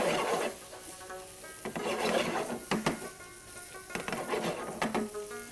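A spoon scrapes and stirs yogurt through a paneer gravy in a pot, giving soft rasping strokes in an irregular rhythm, close and fairly quiet, with no talking.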